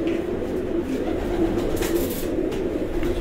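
Breeder pigeons on a rooftop loft in Lala Musa coo in a low, continuous, overlapping murmur at close range, with faint background noise.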